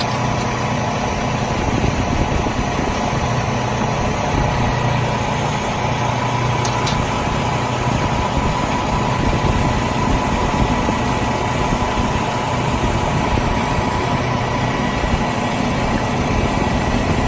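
A truck engine idles steadily, with the truck set up to run a bulk feed trailer's wet kit. The close, even drone holds without a break and no one speaks.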